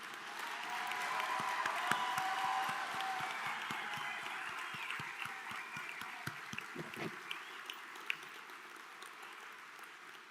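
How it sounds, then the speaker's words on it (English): Audience at a college commencement ceremony clapping in a big hall, a dense sustained round of applause that slowly thins and fades over about seven seconds, leaving scattered claps. "Let's give them one heck of a round of applause."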